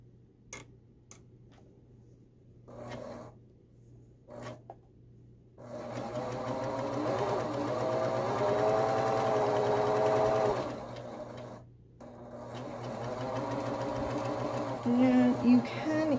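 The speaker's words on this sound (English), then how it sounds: "Turn a corner with a serger." A serger sews along the hem of a hoodie and turns a corner. It runs as a steady, loud mechanical whir for about five seconds, goes quiet briefly, then starts again, with a few short bursts before it begins.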